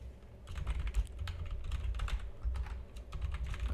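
Rapid typing on a computer keyboard, a steady run of close, crisp key clicks over a low background hum, with no talking.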